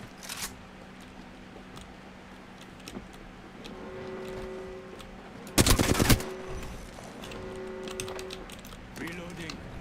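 Rapid gunfire in the shooter game Apex Legends, a sharp, loud burst of shots in the middle over a low steady hum and scattered clicks, with speech heard alongside.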